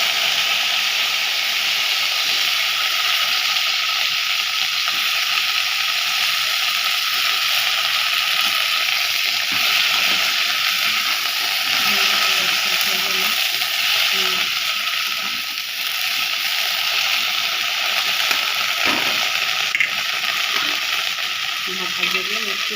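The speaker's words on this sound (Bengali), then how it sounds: "কড়াইয়ে তেল গরম হচ্ছে, কাঁচা লঙ্কা আর কালো জিরে ফোড়ন দিচ্ছি, দিয়ে ভেন্ডিগুলো ছেড়ে দিচ্ছি।" Okra frying in hot oil in a kadai with green chilli and nigella seeds makes a loud, continuous sizzle and crackle throughout, steady and close, with faint occasional stirring.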